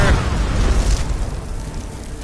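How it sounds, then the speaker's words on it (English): A fireball spell cast by a mage in a fantasy video game: a loud, booming fiery burst at the start that rumbles and fades over two seconds, with no talk. "Here, have a fireball and some ice."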